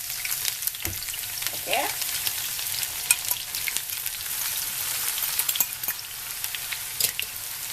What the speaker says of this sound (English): I'm going to fry the onions first, which I'm going to add in my biryani